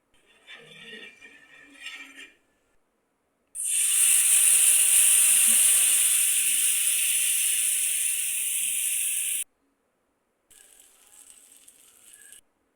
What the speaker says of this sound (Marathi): आपण जे पीठ तयार केलेलं आहे त्याला तव्यावर टाकूयात.